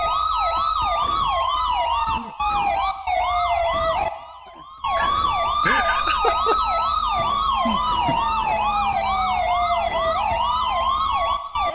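A police car siren in a roleplay video game wails loud and close, cycling rapidly in a rising-and-falling yelp with a slower wail underneath, briefly cutting out once before resuming, with engine rumble beneath.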